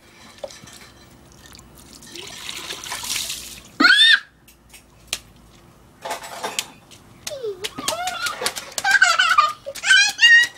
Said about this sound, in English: You have to know when you wash the dish.